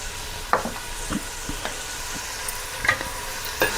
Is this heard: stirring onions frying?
yes